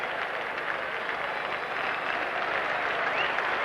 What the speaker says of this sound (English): The crowd appreciating this.